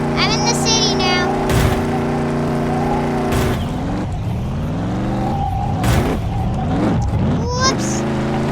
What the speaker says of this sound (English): So I'm driving through the neighborhood.